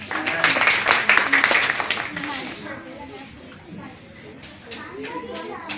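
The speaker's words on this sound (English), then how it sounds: "Please come on stage, everybody clap." An audience claps loudly for children coming on stage at an outdoor kids' English program, a dense burst that fades after about two seconds, with a voice speaking over it and afterward.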